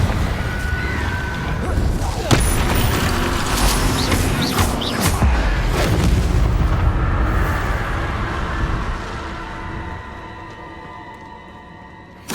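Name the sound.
Confringo fire spell explosion in Hogwarts Legacy video game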